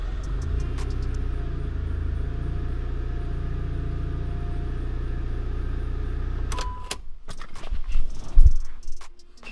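A car engine, just fitted with a new oil pressure sensor, runs at a steady low rumble for about six seconds. The rumble then drops away, followed by a few sharp clicks and knocks nearby.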